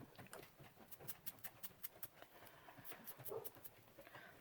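Dogs being taken outside make quick, faint patters and clicks like paws scrabbling on a floor, with a soft whimper-like sound near the end, all distant and quiet.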